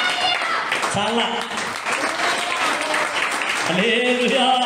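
A church congregation claps during a sermon, the applause swelling beneath a preacher's amplified voice that keeps speaking throughout.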